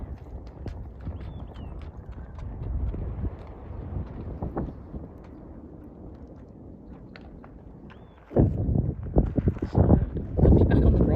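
Horse hooves clip-clop steadily on an endurance trail ride near Elephant's Trunk, rhythmic and close, growing louder and busier near the end amid wind buffeting the microphone and a voice talking over them.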